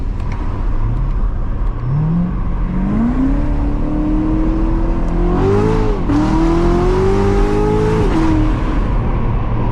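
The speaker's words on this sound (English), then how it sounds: "Anyways, now listen to this V8." A 700-horsepower Corvette V8 revs loudly and close, rising pitch in repeated pulls with brief shifts, a steady powerful exhaust roar throughout with no talking.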